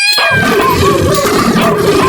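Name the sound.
person meowing to imitate a cat, anime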